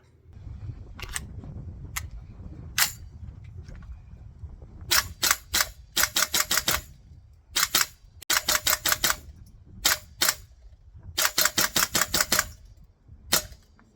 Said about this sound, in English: we need to do a test fire and proof of function